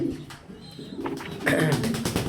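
Pigeons cooing in a loft, soft low rounded calls repeating through the clip and growing louder and busier in the second half, with no voices over them.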